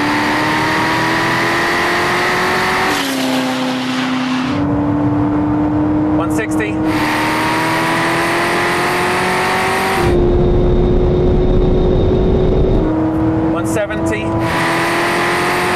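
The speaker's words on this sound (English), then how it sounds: "You're in the fastest Corvette ever made on the fastest roads on Earth." Chevrolet Corvette ZR1 engine roars as it accelerates at very high speed on a fast European road, loud and close, rising in pitch through each gear with sharp drops at the shifts.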